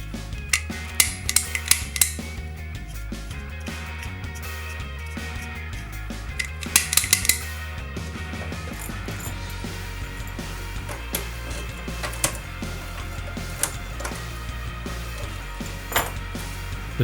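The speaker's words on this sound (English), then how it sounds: "The trigger of the pick gun is pulled, causing the needle to impact all of the pin stacks simultaneously." A lock pick snap gun with its needle in a lock's keyway fires in sharp metallic snaps, several quick clicks near the start and scattered ticks and clatter after, close and fairly quiet.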